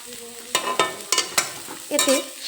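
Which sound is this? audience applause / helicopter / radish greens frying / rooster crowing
radish greens frying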